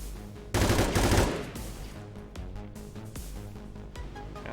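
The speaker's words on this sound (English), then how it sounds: "I'm gonna go here with Dolly Douglas and I'm gonna shoot this guy." Gunfire in the video game XCOM 2, a loud burst of rapid shots followed by further sharp cracks and combat effects over a busy game soundscape.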